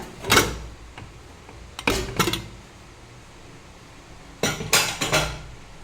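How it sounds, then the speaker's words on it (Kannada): A pressure cooker of mung bean sambar, cooled after four whistles, is opened with three separate bursts of metallic clanking and clattering from the lid and pot, close by, with quiet gaps between. "ಕುಕ್ಕರ್ ಓಪನ್ ಮಾಡುವ."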